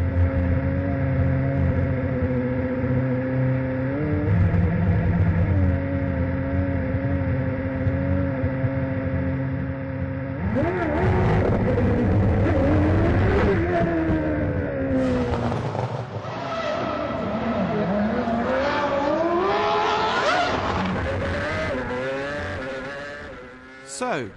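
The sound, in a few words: Williams Formula One car driving on Moscow streets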